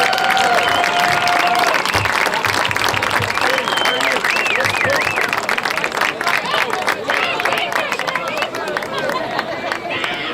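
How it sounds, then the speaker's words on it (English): A football game crowd in the stands applauds seniors and their parents, loud continuous clapping and cheering mixed with chatter and an announcer's voice throughout. "Give them a round of applause."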